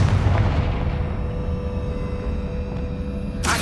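A Confringo spell explosion in Hogwarts Legacy bursts with a deep, rumbling boom that rolls on and then fades, followed by a sharp burst near the end.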